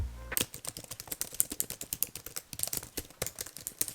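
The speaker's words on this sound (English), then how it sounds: "it still has the clicking sound keyboard. I'll give you a sound test right now" Fast, crisp clicks from a MacBook laptop keyboard come in a quick, uneven typing rhythm, close up and alone with no voices.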